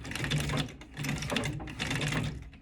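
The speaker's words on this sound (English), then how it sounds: "It takes getting used to the treadle." Early-1900s treadle sewing machine stitching up close, a steady rapid mechanical clatter running in three surges with brief easings between them as the treadle is pumped.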